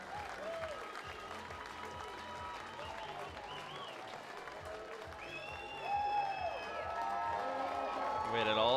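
A baseball crowd at a game between the Energy City Cactus Rats and Sylvan Lake Gulls applauds and cheers after a home run, with sustained clapping and whoops that grow louder toward the end.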